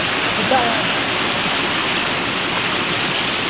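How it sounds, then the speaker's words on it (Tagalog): Waterfall near a cave, a loud, steady broadband rush of falling water continuing unbroken and close. "waterfall"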